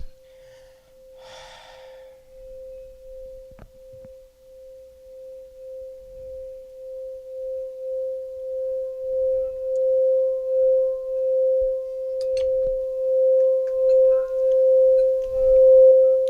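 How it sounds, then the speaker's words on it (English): A singing bowl rings as a steady, pure sustained tone with a gently pulsing swell that grows louder over time. Faint breaths and small noises sit underneath, with no talk. "we do the singing bowl"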